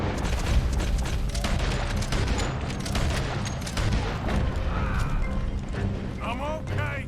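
Shotgun blasts and surrounding gunfire in Red Dead Redemption 2, with loud repeated booming shots across the whole stretch, mechanical clatter in between, and a voice talking underneath.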